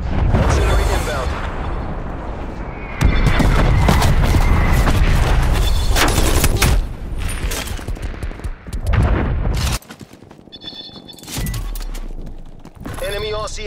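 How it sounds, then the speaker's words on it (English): Artillery strike in Call of Duty: Black Ops Cold War, a 12 v 12 Domination match on Crossroads: loud, dense booms and gunfire roll continuously, then ease into scattered bursts near the end. "Artillery inbound."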